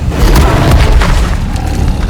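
Incendio fire spell cast in the Hogwarts Legacy video game, a loud deep booming roar of flame that rumbles and flickers throughout.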